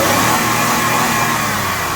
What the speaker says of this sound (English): And Josh is going to give it a couple of revs.